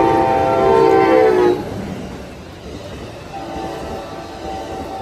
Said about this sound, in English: That train is headed to San Jose.